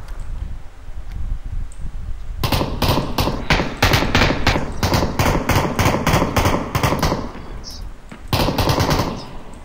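Rapid automatic gunfire from PUBG at night, loud and close, in long sustained bursts broken by short pauses, with a quiet stretch at the start before the shooting begins.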